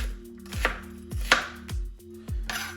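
A knife chops vegetables on a board for a Cypriot turlu seasonal stew, with five firm, evenly spaced chops over a quiet kitchen background, close and clear.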